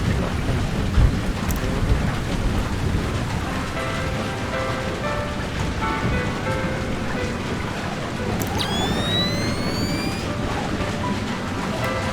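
Continuous heavy rain and rumbling thunder in the video game Splinter Cell Chaos Theory, a steady roaring downpour with low rolling booms and a few sharp tonal effects late on.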